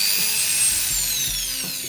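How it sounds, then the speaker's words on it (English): A slow-turning, stronger drill drives a hole saw through panel material while fabricating a front T-section for a Lotus Europa, producing a continuous close grinding whir with faint rhythmic ticking as the cut proceeds. "So to drill the hole with the hole saw, I'm going to use a much stronger drill"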